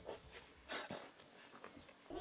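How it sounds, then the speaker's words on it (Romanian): Dogs met along a rural trail in Transylvania beside a flock of sheep, panting and whimpering faintly at close range with soft snuffling breaths, no barking. "Și mulți câini."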